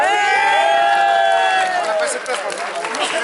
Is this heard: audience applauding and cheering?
yes